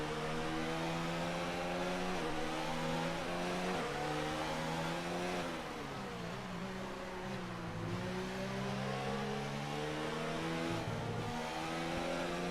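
A Formula 1 race car engine in the F1 2019 video game, racing in heavy rain, howls continuously as it revs up and drops through gear changes, loud and close throughout.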